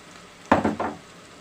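Chopped carrot dropped onto frying onion in a pan gives a sudden loud sizzle burst with a couple of quick pulses of hissing, close up, then settling back to a quiet background.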